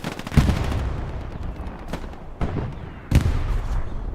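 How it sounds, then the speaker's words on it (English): Gunfire from a mounted machine gun nest in a multiplayer shooter game, heard as scattered loud shots and bursts over constant game background noise. "Silent Bob set up in this bunker here, in this nest, with his MG"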